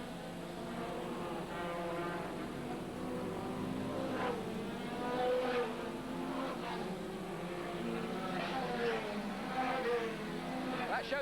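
Hot rod race cars from a 1983 team racing event roar steadily at a distance, engines droning and rising through the whole stretch beneath continuous commentary.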